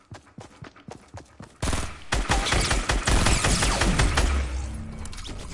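Fortnite gunfire starts as a string of separate sharp shots, then breaks into a dense, loud volley of rapid fire with booming impacts that keeps going to the end.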